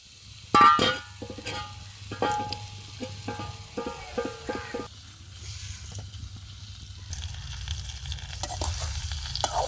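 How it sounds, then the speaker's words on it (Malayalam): Pieces of overripe Nendran banana hit hot oil with a few clinks, then a steady sizzle builds and continues as the frying goes on. "കുറച്ച് എണ്ണ ചൂടാക്കിയിട്ടുണ്ട് ഇനി അതിലേക്ക് നമുക്ക് നുറുക്കി വെച്ചിട്ടുള്ള ഈ പഴം ഇട്ടെടുക്കാം"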